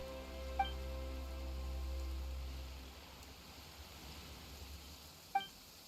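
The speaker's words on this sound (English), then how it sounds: "Why is it raining all of a sudden?" Soft, steady rain in the video game Genshin Impact hisses and patters under a low hum, with a couple of brief chime-like tones ringing out.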